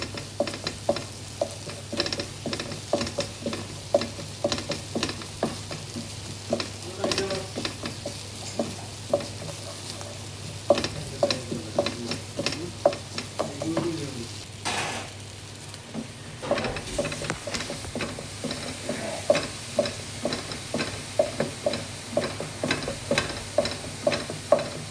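Egg bhurji fries in butter olive oil in a pan, giving a steady soft sizzle with frequent scraping and tapping as the eggs are stirred and broken up, continuous and close.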